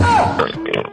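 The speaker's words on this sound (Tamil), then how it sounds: "ஏப்பம் விட்டியா?" A single loud, close burp during a phone call, a short guttural belch standing alone with no talk over it.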